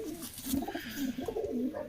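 A pigeon cooing nearby, soft, throaty coos in a run of short repeated phrases, fairly faint, with no talk.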